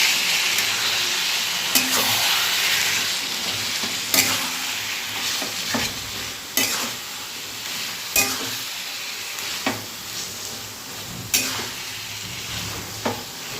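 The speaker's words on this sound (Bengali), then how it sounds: "এবার ভালো করে নেড়ে এটা মিশিয়ে দেবো" Taro leaves (kochur shak) sweetened with leftover pantua syrup being stirred in a frying pan: steady sizzle with irregular scrapes of the spoon against the pan, several sharp clinks spread through the stir.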